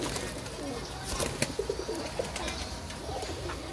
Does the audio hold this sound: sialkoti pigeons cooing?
yes